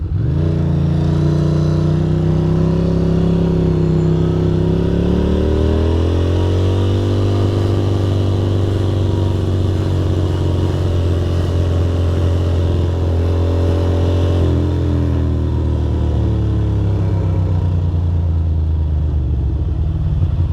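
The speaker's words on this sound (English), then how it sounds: "the vertical cylinder cuts out when it gets wet" Loud, close engine drone of a Ducati Monster 620 ridden on wet New York City streets with its vertical cylinder cutting out, a rough rumble that rises and falls in pitch as it accelerates and eases off over twenty seconds.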